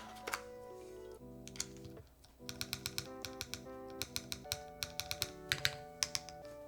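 Typing on a custom Wraith 60 mechanical keyboard with keycaps fitted, quick bursts of crisp clacky keystrokes in irregular runs, close and clear over a faint background hum.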